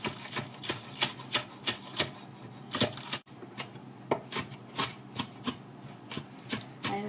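Green onions chopped with a knife on a cutting board, a steady series of crisp, close taps at a quick, even rhythm, alone without talk.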